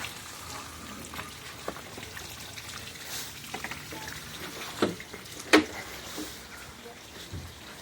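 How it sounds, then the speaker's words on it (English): Water runs from a freshly connected garden hose onto the ground in a faint, steady trickle, broken by a couple of brief sharper splashes. "Okay, turning the water on now."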